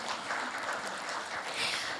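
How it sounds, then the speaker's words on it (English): Sustained applause from an audience at a formal gathering, a steady broadband wash of many hands clapping at moderate loudness, swelling slightly near the end. "please, a round of applause"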